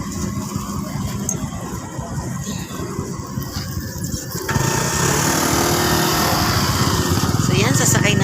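Motorcycles driving off a ferry at Matnog port, a steady buzzing engine drone that grows louder and closer partway through, with someone talking over it.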